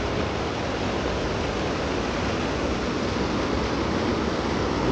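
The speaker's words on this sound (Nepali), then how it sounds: "यो अहिले बगिरहेको खोला चाहिँ कोरीतिरबाट आएको मादी खोला है त" The Madi river rushing down from Kori in Kaski, Nepal, a loud steady broadband roar of fast-flowing water that fills the whole scene without pause or voices.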